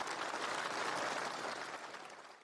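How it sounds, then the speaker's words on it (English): A crowd's round of applause at a live gaming show, steady dense clapping that holds for a couple of seconds and then starts to fade, with no voices over it. "And a big round of applause for Ninjamicwz."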